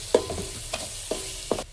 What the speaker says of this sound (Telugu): పచ్చిమిరపకాయలు వేసి ఫ్రై చేసుకుంటున్నాను నేను